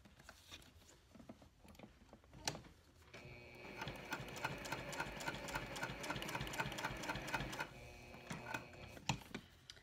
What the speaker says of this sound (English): now I'm going to stitch around my ID window